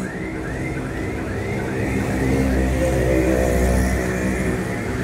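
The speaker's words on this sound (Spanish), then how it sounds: "Vean el tráfico, vean." Steady, loud street traffic in Santiago de Cuba, with car engines droning and passing close by in a continuous wash and a faint whine rising over it, with no talking.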